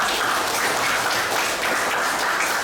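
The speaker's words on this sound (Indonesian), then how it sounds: "Tepuk tangan untuk Najwa" Classmates clap for a student named Najwa during a lesson, a steady, dense burst of applause from the whole room, loud and continuous from start to finish with no talking over it.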